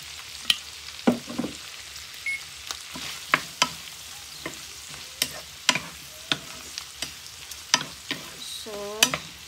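Green beans stir-fried with oyster sauce in a hot pan, a soft background sizzle broken by frequent sharp clicks and scrapes of a utensil against the pan, fairly close.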